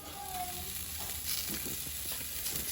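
Pork cooking over a Thai-style grill gives off a steady close sizzle and crackle. It carries on without a break, and a faint whistle-like tone sits above it.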